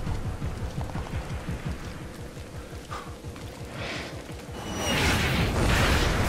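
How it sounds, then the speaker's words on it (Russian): Hail falling in the video game Splinter Cell Blacklist, a steady rattling patter of pellets hitting the ground that builds louder toward the end with rushing wind-like noise, no talking. "Господи, это не миномет! По звуку точно град."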